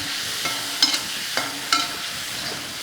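Prawns fry in a hot pan as they are turned, with a steady soft sizzle and a few sharper clinks and scrapes from the spatula at irregular intervals.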